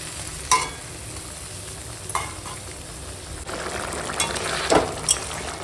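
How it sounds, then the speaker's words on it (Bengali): Fish simmering in a curry sauce in a pan, giving a steady sizzle and bubbling with occasional scrapes and clinks from stirring, close and fairly loud with no voices. "চলো এখন মাছটা দিয়ে দিলাম ঝোলের মধ্যে দিয়ে এখন মাছটা রান্না করবো"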